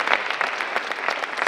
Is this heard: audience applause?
yes